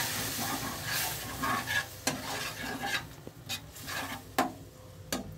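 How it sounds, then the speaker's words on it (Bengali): Shrimp frying in a pan for a Malabar spinach and bean curry as hot water is added, giving a busy close sizzle with scattered sharp scrapes and clicks of a utensil against the pan. "এবার আমি এর মধ্যে দিয়ে দিচ্ছি হচ্ছে একটু গরম জল।"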